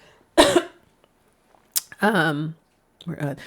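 A single sharp cough rings out, followed by a brief throat sound and a short stretch of speech.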